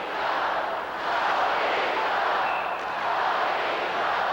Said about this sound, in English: And listen to these people. They haven't had much opportunity to cheer this season, and they want a 10th goal.